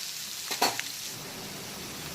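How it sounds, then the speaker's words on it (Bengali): Chopped onion and slit green chillies sizzle steadily in hot oil, with a few brief stirring clinks from a utensil against the pan. "প্রথমে পেঁয়াজ কুচি আর চেরা কাঁচা লঙ্কাটাকে একটু ভাজা ভাজা করে নেব।"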